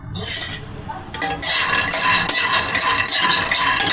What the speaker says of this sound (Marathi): आता आपली कढाई गरम झालेली आहे, मी त्याच्यामध्ये शेंगदाणे टाकून घेते